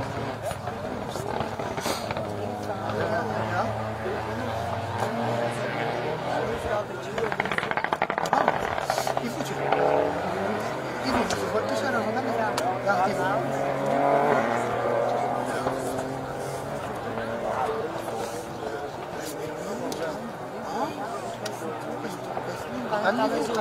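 A Mitsubishi Evo 10 rally car runs on a special stage at Rally Wervik, its engine droning and revving steadily under near-constant commentary.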